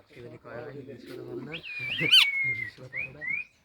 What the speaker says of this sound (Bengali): শালিক পাখিটা